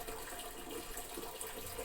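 Water pours steadily into a fully automatic top-load washing machine drum, making a constant, moderately loud rushing and splashing hiss with no pauses.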